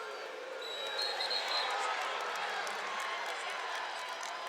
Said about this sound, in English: Here's some of the cheering.